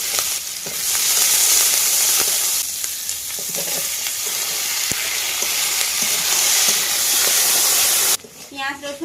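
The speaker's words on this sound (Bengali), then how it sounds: "কাঁকড়াটা আগে ভেজে নিতে হবে তারপরে কুশি দিতে হবে কড়াইতে তেল দিয়ে দিলাম" River tree crab sizzles loudly in hot oil in a wok in a Sundarbans kitchen, a steady close frying hiss with stirring that drops away abruptly near the end.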